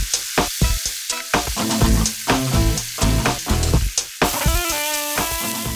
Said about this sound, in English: Then I put the meat in and sear it on all sides so that it forms a brown crust.